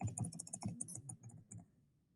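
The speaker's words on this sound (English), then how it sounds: "I'm going to type up my choice number 2" Soft tapping of typing on a computer keyboard, close and quiet, with irregular keystrokes that thin out and fade toward the end.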